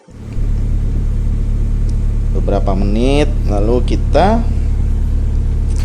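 A KIA Timor car engine idles steadily with a low rumble while someone talks over it; the engine stays loud and constant throughout.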